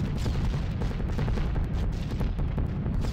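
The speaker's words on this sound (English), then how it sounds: "the flak's arrived and it's quite" Dense, continuous rumble of anti-aircraft flak bursts around a B-17 Flying Fortress bomber in a World War II flight game, steady and heavy with faint crackles woven through the low roar.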